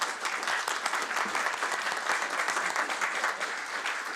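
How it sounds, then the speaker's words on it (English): Council members in a chamber applaud after a maiden speech, a dense, steady round of clapping from many hands, unbroken for several seconds without talk. "when somebody makes a maiden speech, that there is always a clap"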